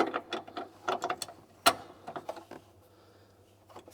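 A ratchet wrench tightens the nut on a rear strut bar in a Subaru GC8, with bursts of quick clicking followed by a single sharp metallic clack, then a few softer clicks after a pause.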